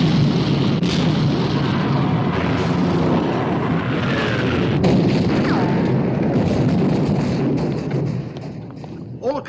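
Battleship guns fire in a 1960 film naval battle against the Bismarck, a dense, continuous roar of heavy booms and rumbling blasts filling the scene loudly, easing slightly near the end.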